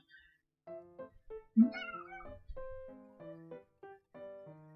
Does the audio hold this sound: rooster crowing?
no